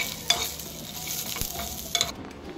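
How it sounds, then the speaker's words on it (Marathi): Peanuts, garlic and cumin frying in light oil in a pan while being stirred, giving a steady close sizzle with a few sharp scrapes of the spoon against the pan, no voices. "आणि मिक्स करून घ्या"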